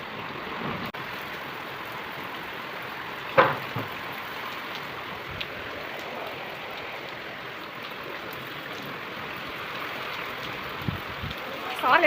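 Heavy rain pours steadily across an evening village setting in cold, chilly weather, a dense continuous hiss close by with a few brief knocks and splashes rising above it.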